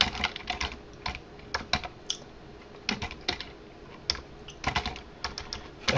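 Someone types on a computer keyboard in short, irregular bursts of sharp key clicks, close and clear, with brief pauses between runs.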